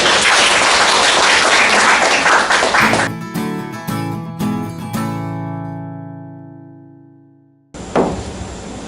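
Loud audience applause at an information session for a gifted-education institute fills the first three seconds, then cuts to a few sharp struck tones ringing and decaying into near silence, followed by a brief loud burst at the end.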